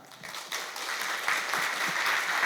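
An audience claps after a lecture on AI strategy for manufacturing and engineering in Daegu, a steady dense patter of many hands that swells slightly and holds at moderate volume.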